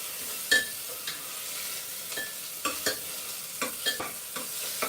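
Khichdi cooking in a pot with a ghee tadka, a steady soft sizzle and frying hiss broken by occasional stirring scrapes and clinks of a spoon.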